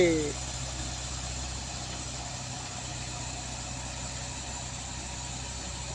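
A truck engine drones steadily and close while the driver pushes it up the Kedabuhan incline, a continuous low rumble that holds an even level with little change in pitch.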